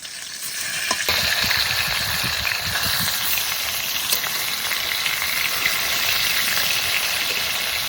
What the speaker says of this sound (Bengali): মাছের নিচে পিঠ ভাজা হয়ে গেছে, এবার উপর পিঠটা উল্টিয়ে দেবো।